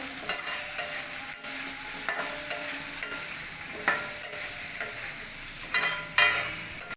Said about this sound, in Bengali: আমার আলুটা ভাজা হয়ে গেছে, লাল লাল করে ভেজে নিয়েছি